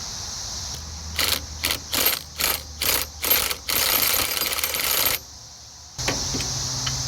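Ratchet wrench loosening bolts near the power steering pump and pulley on a second-generation Honda CR-V, a run of quick close clicking bursts followed by a longer steady ratcheting stretch, then a pause and quieter fiddling.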